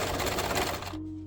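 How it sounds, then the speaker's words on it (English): A sewing machine runs a fast, steady stitch along the long side of a fabric scrunchie, close and continuous for about a second before stopping and leaving a low hum. "I'm going to go ahead and stitch the length side of the scrunchie"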